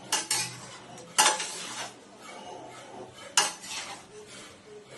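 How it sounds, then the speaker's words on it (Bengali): A spoon scrapes and clanks against a pan while chilli chicken is mixed into gravy, a few sharp metallic strikes standing out over a soft, low sizzle, close and without voices. "দিয়ে চিলি চিকেনটা দিয়ে গ্রেভিটা দিয়ে ভালো করে মিক্স করে ভালো করে এর সঙ্গে মিশিয়ে নেবো।"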